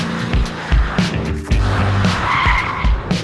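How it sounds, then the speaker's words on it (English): A big Mercedes-Benz car of over two tons slides around a wet circuit in Wales, its tires skidding and squealing in loud repeated bursts over steady engine roar, close and continuous with no talking. "let you watch a well over 2-ton Mercedes-Benz sliding around a wet circuit somewhere in Wales"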